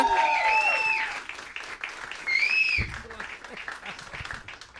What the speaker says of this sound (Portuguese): Recebam com muitas palmas.